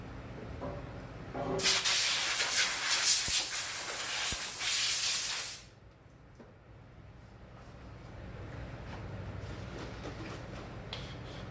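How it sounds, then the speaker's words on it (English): An aerosol can of concrete release agent releases a strong hissing spray for about four seconds, close and loud, then cuts off to quiet background. "See, this one's got some powder in, so I'll give it a quick spray."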